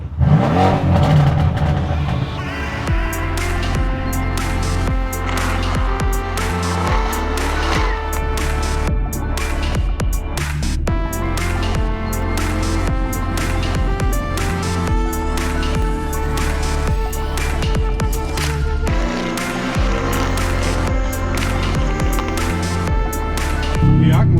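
A Mercedes car drives hard around a race track, its engine revving and shifting steadily throughout, heard from inside or near the car at a constant loud level.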